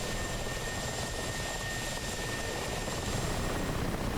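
Mi-8 Hip and Mi-24 Hind helicopters in the DCS combat flight simulator, a loud, steady rotor drone with a continuous whine, close and unbroken throughout.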